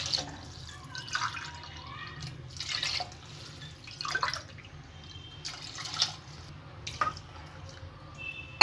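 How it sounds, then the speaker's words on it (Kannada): Water is poured in several short, splashing bursts onto rice in a pot for village-style egg palav, close by, each pour separated by brief pauses. "ಈಗ ಇದಕ್ಕೆ ನಾವಿಲ್ಲಿ 3 ಲೋಟ ಅಕ್ಕಿ ತೊಗೊಂಡಿರೋದ್ರಿಂದ 6 ಲೋಟ ನೀರು ಹಾಕ್ಕೊತಾ ಇದ್ದೀನಿ ಇಲ್ಲಿ"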